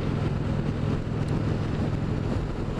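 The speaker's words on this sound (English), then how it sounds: "Now we're going straight into that wind." Wind roars over the rider while cruising on an Indian Springfield Dark Horse motorcycle without a windshield, a constant loud buffeting rush with low engine rumble underneath, no voices.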